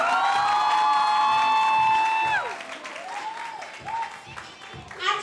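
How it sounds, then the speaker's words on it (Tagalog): A crowd at a college masquerade party cheers and claps loudly to welcome a faculty member, with whoops and shouts over steady applause for about two seconds before it fades into scattered noise and voices. "Please, yung mga tinatago niyong palakpak dyan, please welcome our faculty member, Miss Emelita Solasito."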